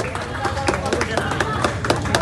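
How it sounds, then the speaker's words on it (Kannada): Audience at a ragi mudde eating competition in Anekal claps in a dense, steady patter that runs the whole time, loud and close, mixed with crowd murmur and voices. "ಒಂದ್ಸರಿ ಜೋರ ಚಪ್ಪಾಳೆ ಬರಲಿ."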